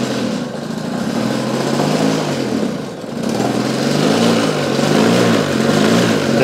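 A folding French Motobecane Moby-X1 moped running with its small engine under throttle, a loud, close, buzzing drone with a brief dip in revs midway before rising and wavering again.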